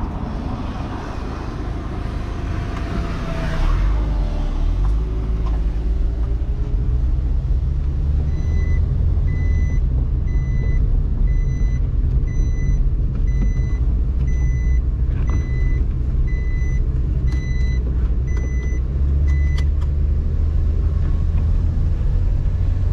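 A steady engine and road rumble fills the inside of a car driving through busy traffic on St. Bart's, with a faint repeating beep pattern partway through and no talking.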